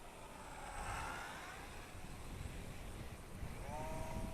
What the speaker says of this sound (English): Oh, the wind's picking up now.